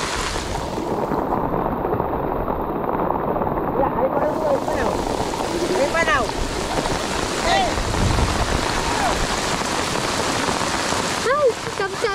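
Heavy rain pours steadily onto a surface beside a Philippine river as the water runs high and fast, a dense continuous hiss with faint voices and splashes mixed in.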